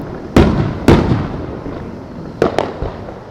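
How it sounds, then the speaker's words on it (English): Fourth of July fireworks bursting in Artesia: two sharp, loud booms half a second apart, then a quieter double pop a moment later, each leaving a rumbling crackle that fades out. "Wonder what kind of firework that is."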